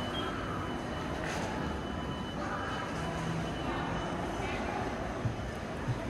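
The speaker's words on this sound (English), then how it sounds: "the train station right behind us" Ambience outside Amsterdam's main train station: a dense, steady wash of city and rail noise with faint rumbling, occasional squeals and distant voices, fairly loud throughout.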